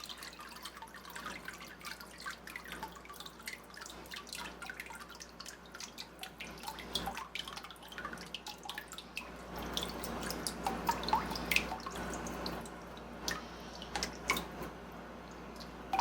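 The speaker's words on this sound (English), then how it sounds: "Let the water drain out." Water from a paper making kit mould drains and drips steadily, with dense irregular patters and trickles close by, growing busier partway through, with no voices.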